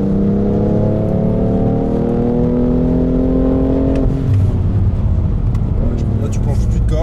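A BMW driven hard on a track, its engine note holding a steady loud drone from inside the cabin before easing off under heavy braking, with an instructor talking over it.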